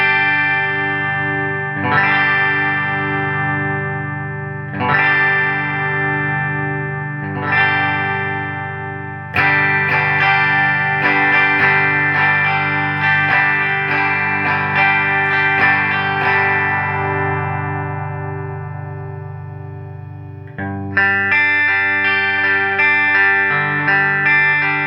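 An Ernie Ball MusicMan Silhouette Special electric guitar on its middle pickup strums a series of ringing chords through light distortion, each left to sustain and decay before the next, with quicker strums midway.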